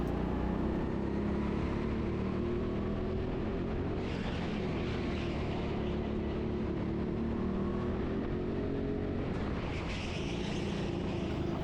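A go-kart engine drones steadily on a practice lap at TeamSport Sheffield's indoor track, a close continuous buzz that rises and falls as the kart accelerates out of corners and eases off, with no speech.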